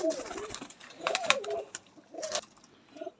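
Lal Pari pigeons cooing close by in a few soft, throaty bursts with brief pauses between them, set against a faint background of a person talking.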